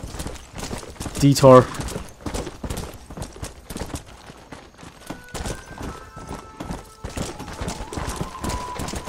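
Rapid galloping hoofbeats from a horse during a cattle roundup in Red Dead Redemption on PS3, close and rhythmic with a brief whinny early on, while someone talks over them.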